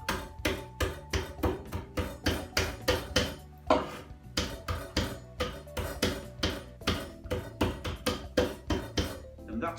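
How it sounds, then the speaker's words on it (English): A rolling pin bashes walnut brittle on a chopping board in a fast, steady run of sharp knocks and cracks, close up, with a brief pause midway. "we're just going to bash that on the chopping board"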